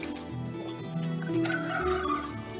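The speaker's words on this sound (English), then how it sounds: "Kill them turkeys." Turkeys gobbling in a video game, a run of rapid warbling gobbles rising and falling over steady game background sound, loud and near with no voices.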